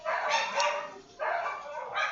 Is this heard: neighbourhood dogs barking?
yes